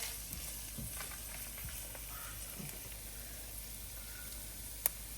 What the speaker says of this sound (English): In goes the garlic.